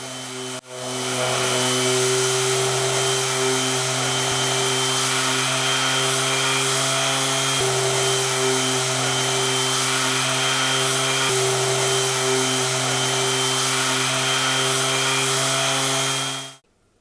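An electric sander works an oak fire surround, giving a loud, steady, close whine with a strong tonal hum that runs almost without break for about sixteen seconds before cutting off, with no talking.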